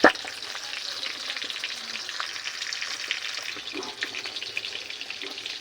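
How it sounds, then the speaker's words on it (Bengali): Fish fries in hot oil with a loud, continuous close crackle and sizzle, occasional pops and light clatter rising through it, no talk. "মাছ ভাজি হচ্ছে।"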